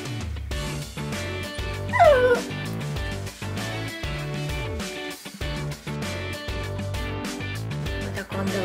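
Pet dogs fighting over a sofa give a few whimpers and yips, brief and close, over loud steady background music.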